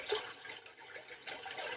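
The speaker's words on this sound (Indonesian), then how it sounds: "suara tetesan hujan" Soft rain patters steadily in a gentle, continuous hiss with slight swells, quiet and even, with no voices.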